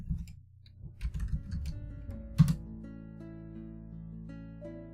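Soft key clicks tap out a short word on a computer keyboard, a quick cluster of light presses that fades into a quiet sustained tone.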